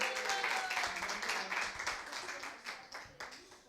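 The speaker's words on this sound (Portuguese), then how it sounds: "Palmas para o Samuel" Applause from an audience welcoming a student presenter at a thesis presentation, a modest, fairly quiet burst of clapping that thins out and fades toward the end.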